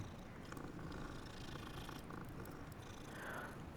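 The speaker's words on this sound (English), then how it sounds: "You can pet the kitty." A cat in the video game Hogwarts Legacy purrs while being petted, a soft continuous rumbling purr heard close up and alone at low volume.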